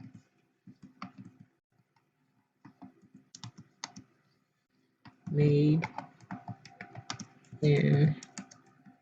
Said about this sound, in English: I have to pay attention to when I'm typing, where I am on the screen.